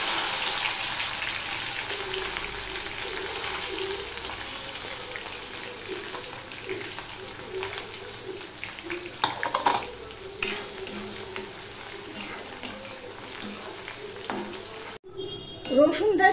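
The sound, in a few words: crushed garlic frying and being stirred in pan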